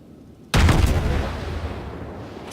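A warship gun in the naval combat game World of Warships fires a single heavy boom that starts after a short quiet lead-in, then rolls off in a long, fading rumble.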